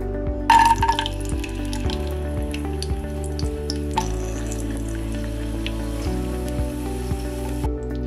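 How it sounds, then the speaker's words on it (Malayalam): Raisins frying in ghee for Kerala parippu payasam: a sudden sizzle as they hit the hot fat, settling into a soft, continuous crackle, with background music throughout and no talking. "ഇനി നമുക്ക് കിസ്മിസ് ഫ്രൈ ചെയ്തെടുക്കാം."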